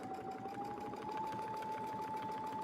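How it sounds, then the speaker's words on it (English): A sewing machine runs a short burst of tacking stitches, a quick, even mechanical whir with rapid regular needle clicks and a faint steady tone, close and quiet, with no voices. "We'll do a few tacking stitches."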